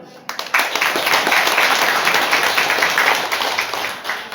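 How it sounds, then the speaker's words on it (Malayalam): Hands clap together in a burst of applause from the audience at an Ayurveda camp for elderly people, starting abruptly and continuing dense and loud, with some voices mixed in. "നമുക്ക് എല്ലാവർക്കും നന്നായിട്ട് ക്ലാപ്പ് ചെയ്യാം."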